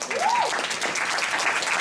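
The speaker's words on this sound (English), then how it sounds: "Can we give a round of applause to that?" An audience applauds in a hall, a steady wash of many hands clapping that holds for the whole stretch, with a brief whistle near the start.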